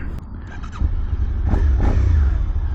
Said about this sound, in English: I'm going to start it up for you, rev it up just a little bit